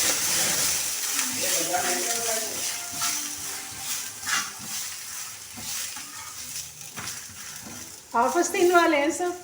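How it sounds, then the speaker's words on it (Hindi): Roti frying in ghee in a pan, splashed with a little water, sizzles and hisses steadily and loudly, with stirring and clinking throughout and a sharper burst of sizzle near the end. "तो बस इसमें हल्का सा घी लगाएंगे और पानी का इसमें छींटा देंगे तो ये बेहतरीन सी हमारी रोटी तल के तैयार हो जाएगी"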